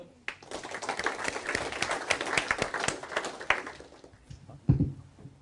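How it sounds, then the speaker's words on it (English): A small audience gives a round of applause at a sales-training session, with scattered claps building into a steady patter before tapering off, ending in a louder thump. "Round of applause."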